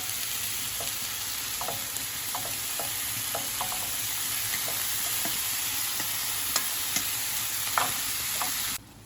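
Diced saffron milk cap mushrooms sauté in a pan, a steady close hiss of frying with scattered light crackles and a few stirring taps, no talking, ending abruptly.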